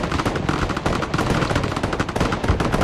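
Dense, loud automatic gunfire in the Broken Arrow strategy game, continuous overlapping bursts and rapid shots with no break, heard alone without talking.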